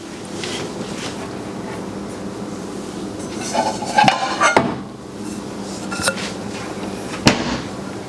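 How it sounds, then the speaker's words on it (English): Pots clattering and clanking as one is pulled from a kitchen cupboard, a few sharp metallic knocks and rattles amid shuffling. "pardon me while I grab a pot"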